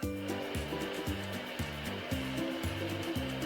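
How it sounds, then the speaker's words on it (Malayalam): Chicken momos steam in a steamer, giving a constant loud hiss with a rhythmic rattling, bubbling pulse underneath, close and unbroken, with no voices. "ഈ ഒരു സെറ്റ് നമുക്കൊന്ന് സ്റ്റീം ചെയ്തെടുക്കാം"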